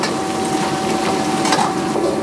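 Hot wok stir-frying in a restaurant kitchen in Changzhou, Jiangsu, a continuous loud sizzle with scraping and stirring noises and a faint steady tone running underneath, no voices.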